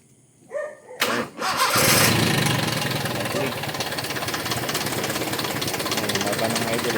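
A Toyota 4K car engine with a freshly overhauled carburetor cranks briefly in a few loud bursts, then catches and settles into a steady, close, rumbling run.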